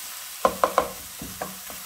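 Young leeks and chicken stirred in a pan, a few sharp scrapes and clatters of a utensil close by, three quick strokes then softer stirring with faint sizzling underneath.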